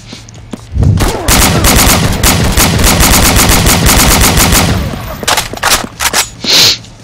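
Sustained rapid automatic gunfire from the zombie shooter game BrainBread 2, loud and close in dense bursts for several seconds, then tapering into scattered shots, with a voice briefly heard near the end.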